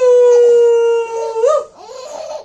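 A voice imitates a fox howl, with a long, loud, sustained wavering 'aoo' followed by a shorter, rougher dip and a fading tail, close to the listener.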